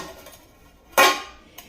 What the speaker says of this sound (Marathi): हे बघा आता याच्यावरती मी झाकण ठेवून घेते